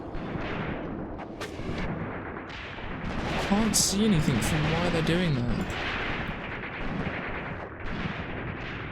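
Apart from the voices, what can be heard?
cannons and mortars firing in Graviteam Tactics video game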